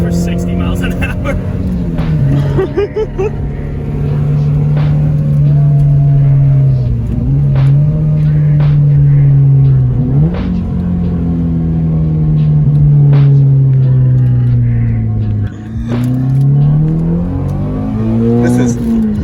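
Car engine droning loudly from inside while driving at highway speed, a heavy low hum that rises and dips with a few gear shifts, with a voice talking over it.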